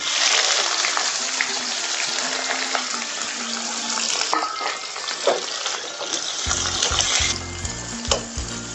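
Onions frying in oil toward golden brown for a gongura chicken curry, giving a loud continuous sizzle with occasional stirring scrapes and a brief watery splash near the end.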